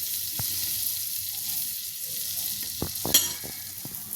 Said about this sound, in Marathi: त्या बटरवर आपल्याला हा रोल गरम करून घ्यायचा आहे, फ्राय करून घ्यायचा आहे